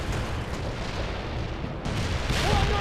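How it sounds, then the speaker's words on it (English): Mortar strikes in the World in Conflict video game land as a dense, rumbling barrage of booms and blasts, loud and continuous, with a faint radio-like voice briefly heard beneath. "Mortar strike inbound"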